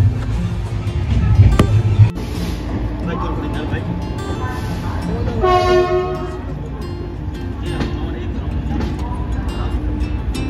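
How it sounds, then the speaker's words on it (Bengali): A passenger train pulls out of Moradabad station with steady rumbling and rolling wagon noise, plus a sharp clank and a short whistle-like tone partway through, heard from inside the carriage. "ট্রেন আমাদের এখন মুরাদাবাদ স্টেশন ছেড়ে চললো।"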